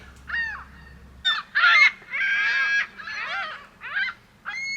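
Seagulls on Mackinac Island call in a loud, close series of squawks and cries with short gaps between them, and a low rumble briefly sits underneath at the start.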